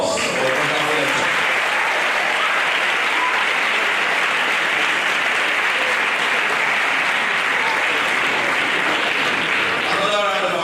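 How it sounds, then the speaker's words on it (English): Lecture audience at an aquatic ecology talk bursts into sustained applause, a loud, dense and even wall of clapping filling the room with no break, faint voices mixed in. "round of applause for the lecture."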